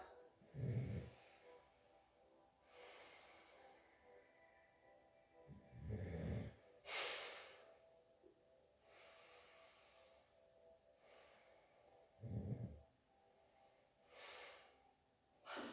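Slow, deep breathing during a down-regulation breathing exercise, with long airy inhales and exhales repeating roughly every six seconds, close and soft against an otherwise quiet room.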